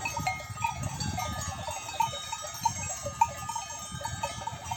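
A continuous patter of clinking bells rings out from a grazing sheep flock, with occasional brighter bell strikes over a low, steady rustle of the animals nearby.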